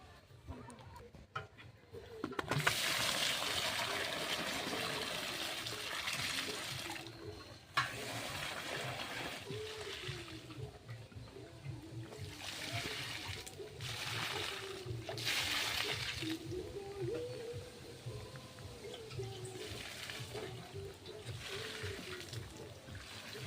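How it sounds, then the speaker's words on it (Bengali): Water splashing steadily while plants are watered at a rural home, a loud ongoing wash of pouring and spattering with brief pauses, close to the listener. "এখন জলটা দিয়ে নেই তাড়াতাড়ি"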